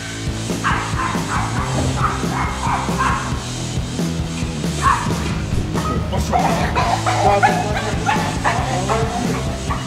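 An American Pit Bull Terrier barks and yips repeatedly in loud, irregular bursts close by, with some whimpering between barks.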